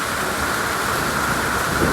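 Heavy rain pours during a storm in Mirpur, Dhaka, a dense, steady roar of falling water on surfaces with a low rumble underneath, continuous and loud without any talking.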